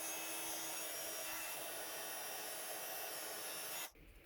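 A heat gun blows a loud, steady whooshing hiss while embossing copper metallic embossing powder, then cuts off abruptly near the end.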